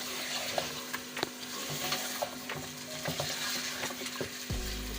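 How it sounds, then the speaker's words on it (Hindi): Chicken being stir-fried for a qorma over medium-high heat, a continuous close sizzle with repeated scraping and knocking of the spoon against the pot, loud and steady with no voices. "आँच थोड़ी आपने मीडियम से थोड़ी सी तेज़ रखनी है और चिकन को अच्छा सा भूनना है"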